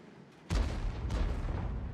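A single loud artillery shell blast fired from a tank in World of Tanks, a sudden close boom followed by rumbling reverberation and a second softer crack.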